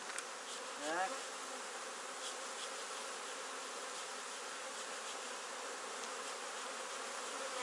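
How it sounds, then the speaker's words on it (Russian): Honeybees buzz steadily at an open beehive nest during a hive inspection, a dense continuous drone close by throughout, with a brief spoken word near the start. "Ну, здесь пчелки выходят."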